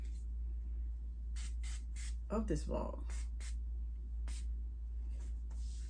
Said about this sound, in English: This is spray lotion from Bath and Body Works.